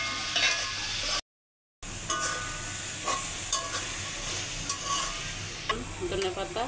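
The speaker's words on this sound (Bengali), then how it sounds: "ভাজা চিংড়ি মাছগুলি আমি দিয়ে দিলাম, নেড়ে চেড়ে সবগুলি উপকরণ মিশিয়ে নেব।" Fried prawns with turmeric and spices are stirred in a pan, a steady sizzle under repeated scraping and clinking stirs, close and fairly quiet, with a brief silent cut early on.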